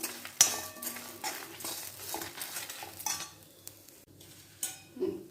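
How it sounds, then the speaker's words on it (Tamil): Pieces of tamarind being stirred and roasted in a pan, with soft sizzling and scattered scrapes and clinks of a utensil against the metal, close and fairly quiet, no voices. "இப்போ இதோட எடுத்து வச்சிருந்த புளியையும் சின்ன சின்னதாக பிச்சு இதில் வறுத்து எடுத்துக்கலாம்."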